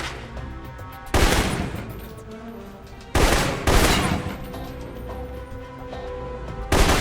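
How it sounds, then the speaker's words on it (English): Assault rifle fire in the Alpha Protocol video game crackles in loud bursts, three sustained volleys separated by quieter gaps over a low background, with music and ambience underneath. "For long-range encounters, the assault rifle's the key."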